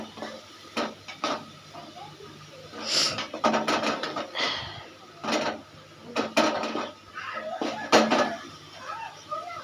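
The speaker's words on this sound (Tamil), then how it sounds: "அரைப்பை போட்டு மிக்ஸ் பண்ணிக்கலாம். நல்லா மிக்ஸ் பண்ணிக்கோங்க." Ground masala paste is stirred into a pot of beans curry, making repeated scraping and clattering strokes of a spoon against the pot, with brief pauses between stirs.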